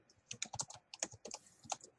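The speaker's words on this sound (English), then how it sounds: "While I'm typing this" Quick bursts of typing on a computer keyboard, irregular clusters of sharp, close key clicks with brief pauses between them, alone and fairly quiet.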